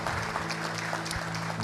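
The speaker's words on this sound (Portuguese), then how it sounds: "Se você crê nisso, pode dar uma salva de palmas para Jesus" A church congregation claps during a worship service, giving a brief burst of dense applause that carries on throughout without voices.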